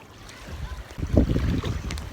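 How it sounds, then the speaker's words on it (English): Gusts of wind buffet the microphone out on the shallow waters of Bacalar during a paddle, a low rumbling roar that swells and thumps louder midway, with no talking. "It's quite windy. I'm trying to cover it."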